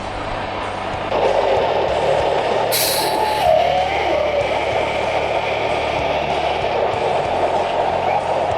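A semi-truck's air suspension airbags reinflate, making a steady, loud hiss of rushing air that starts abruptly and continues evenly beneath a low engine idle, with a brief higher burst early on.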